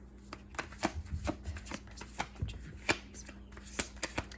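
Tarot cards are shuffled by hand, a quick series of crisp riffling snaps and slaps at an irregular rhythm, close and fairly quiet with no talking.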